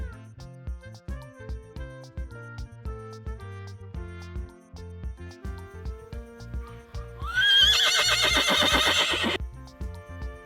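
A horse neighs loudly in a long whinny near the end, following a steady rhythmic musical backing with clip-clop-like beats that runs throughout.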